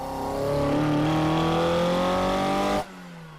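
A Toyota 4AGE engine fitted with 75mm intake trumpets revs hard under acceleration, its pitch climbing steadily as it builds power, loud and close, then cuts off sharply near the end into a lower idle.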